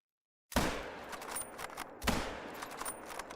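Two sharp, loud hunting rifle shots ring out about a second and a half apart in theHunter: Call of the Wild, each trailing a long, echoing decay across open terrain.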